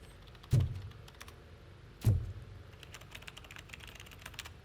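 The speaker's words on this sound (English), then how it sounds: "I heard somebody typing." Faint, quiet typing on a computer keyboard with light scattered key clicks, broken by two louder thumps, in a game setting.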